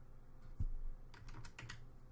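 Computer keyboard keys pressed while configuring tablet express keys on Linux, a single soft tap followed by a quick cluster of several clicks, close and quiet with no talking.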